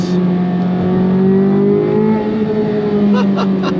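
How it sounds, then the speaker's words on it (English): A modified C8 Corvette Z06 engine holds a loud, steady growl that rises slightly in pitch as it revs, with a few faint sharp clicks near the end. "Love the sound of this car."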